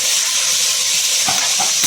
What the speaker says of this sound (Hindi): अब हम प्याज को तेल में थोड़ा सा भून लेंगे।